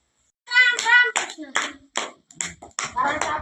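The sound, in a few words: schoolchildren clapping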